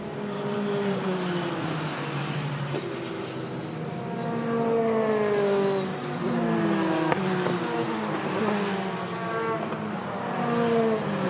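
Formula 3 race cars, all identical with 2-litre engines, roar past at Spa-Francorchamps, several engines overlapping with rising and falling pitch as they pass, loud and continuous throughout.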